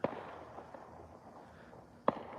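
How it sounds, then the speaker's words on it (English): New Year's Eve fireworks popping at a distance from a balcony, two sharp bangs spaced apart over a steady low rumble of background noise, faint overall. "All right, more fireworks."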